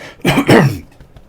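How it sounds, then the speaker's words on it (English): Someone clears their throat twice in quick, gruff bursts, close up, followed by a brief breathy pause. "excuse me while I clear my throat for one moment"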